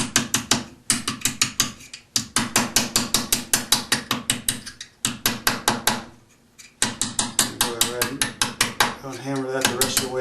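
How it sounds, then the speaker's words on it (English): Wire inlay is hammered down into wood with rapid, evenly spaced sharp taps in bursts separated by brief pauses, close and crisp, with a faint scraping near the end. "Hammer that the rest of the way down"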